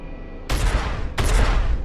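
Spaceship weapons firing at pirate ships in the space game Star Citizen, aboard a Starfarer: two loud, dense bursts of rapid gunfire, the first starting after a short quiet lead-in and the second following close behind, with no talking.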